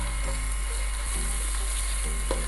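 Ginger garlic paste frying in hot spiced oil for moong dal tadka, a steady close sizzle with a low hum underneath and a faint clink near the end.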